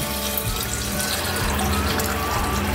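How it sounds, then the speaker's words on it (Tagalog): Water poured into a pot of simmering beef bone stew (nilagang baka), a close, steady splashing and filling sound with faint drips, no voices over it. "So, magdadagdag tayo ulit ng tubig."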